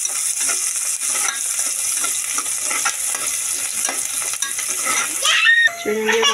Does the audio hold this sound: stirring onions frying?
yes